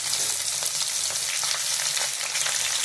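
Chopped onions fry in hot oil for mutton liver gravy, giving a loud, continuous sizzle with crackling bursts and occasional stirring, with no talk over it.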